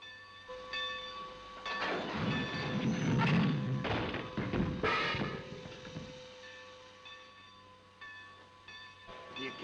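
A steam-era train rumbles and thumps heavily as it pulls out of the station, with clanking and a rising, rolling surge that gradually settles under a constant hum.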